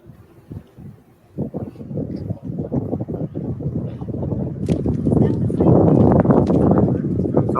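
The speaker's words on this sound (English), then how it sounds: "It's always windy." Gusty wind buffets the microphone with a low, rough rumble, growing louder and steadier toward the end, while people talk underneath.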